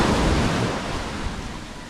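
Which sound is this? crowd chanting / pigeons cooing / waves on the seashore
waves on the seashore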